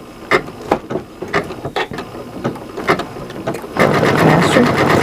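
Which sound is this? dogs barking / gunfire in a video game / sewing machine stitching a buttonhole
sewing machine stitching a buttonhole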